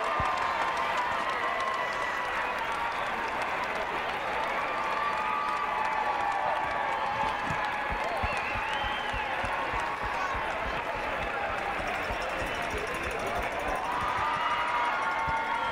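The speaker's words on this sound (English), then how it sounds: "And the crowd goes wild." Roller derby crowd roaring and cheering wildly in an arena, a continuous loud wall of shouts, whistles and clapping that never lets up, with an announcer's voice faintly mixed in.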